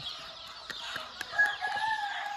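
Country (nati) chickens cluck and chirp in short bursts while drinking water, with a few sharp taps and a steady background hiss, fairly close.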